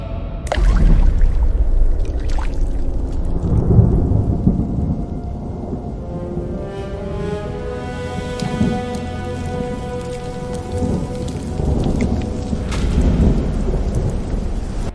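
Heavy rain pours steadily through a thunderstorm while deep thunder rolls and rumbles, swelling loudly near the start and again toward the end, with no voices.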